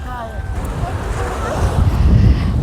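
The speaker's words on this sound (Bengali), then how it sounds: "খুব হাওয়া দিচ্ছে, বেশ ভালো লাগছে।" Strong winter wind buffets the microphone on the Bakkhali coast, a loud, gusty rumble rising toward the end, with a voice briefly audible over it at the start.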